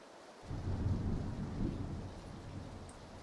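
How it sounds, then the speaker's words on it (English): Thunder rolls through a rainstorm in PlayerUnknown's Battlegrounds, a low rumbling swell that starts abruptly and fades slowly under a steady patter of rain, heard fairly faintly and alone. "That thunder scared me."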